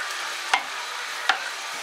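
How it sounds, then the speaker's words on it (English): Browned meat and tomatoes fry in a pan with a constant sizzle, and two sharp scrapes of a spoon against the pan mark the stirring. "when your meat is browned all over, add your tomatoes. Give this a good stir"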